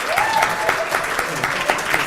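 A dinner crowd claps steadily in a short burst of applause, dense and continuous for about two seconds with a faint voice over it.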